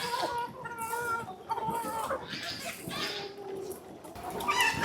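Broiler chickens wandering in a fenced backyard run cluck and chatter continuously at close range, several birds calling over one another with some faint background voices.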